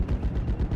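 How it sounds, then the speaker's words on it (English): MG42 machine gun firing in Steel Division: Normandy 44, a rapid, steady stream of loud automatic shots close up, with no talk over it. "MG42 is going to be opening up onto the enemy rifles, which is pinning them down."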